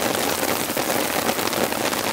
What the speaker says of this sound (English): but this rain is next level